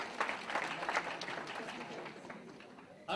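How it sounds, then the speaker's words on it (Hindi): Brief applause from a camp audience during a leadership session, quick clapping bursts near the start that thin out and fade over a few seconds. "ताली बजा दो"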